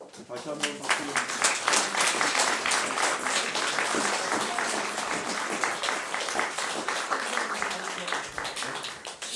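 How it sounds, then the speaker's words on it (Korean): Congregation clapping during a church ordination service for elders, deacons and deaconesses, sustained rhythmic applause from a room full of people with voices mixed in beneath. "다시 한번 박수."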